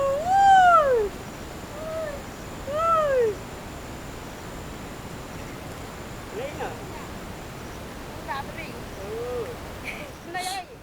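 A village woman in Khatarshnong sings a melodic calling tune used to identify people, two clear rising-falling phrases near the start, then fainter, distant calls answering amid outdoor ambience.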